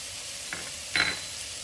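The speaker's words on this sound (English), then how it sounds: "So now fry this onion until it's nicely done." Onion frying in a pan for vada curry gives a steady sizzle, with a soft stir around the half-second mark and a louder scrape and stir near one second.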